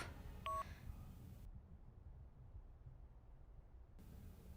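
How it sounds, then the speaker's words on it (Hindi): A call to a switched-off phone fails to connect: a short burst of dialing tones is heard, then a near-silent line with faint low hum, cut off after a few seconds. "फोन क्यों नहीं लग रहा?"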